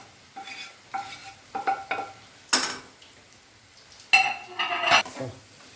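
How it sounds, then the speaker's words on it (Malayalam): Tomatoes are stirred in a frying pan for mutton perattu, giving intermittent close scrapes and light metallic clinks of a spoon against the pan over a faint sizzle. "ടൊമാറ്റോ നല്ലതുപോലെ വേവുന്നിടം വരെ ഒന്ന് ഇളക്കി അടച്ചു വയ്ക്കാം."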